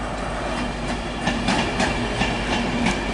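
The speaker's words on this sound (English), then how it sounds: "arriving now, it's 17:57, Virgin Trains East Coast service from Edinburgh to London King's Cross" A Virgin Trains East Coast express from Edinburgh to London King's Cross, hauled by power car 43206, rolls into Newcastle station with a steady rumble and rhythmic wheel clicks over rail joints.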